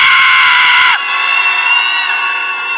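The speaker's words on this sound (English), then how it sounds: "you close your eyes, and then you scream as loud as you can." A conference audience at the Wellbeing Economy Forum screams together as loud as they can, a dense, sustained, loud wall of voices that holds steady, then shifts to a slightly lower pitch.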